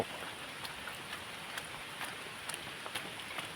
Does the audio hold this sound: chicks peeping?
no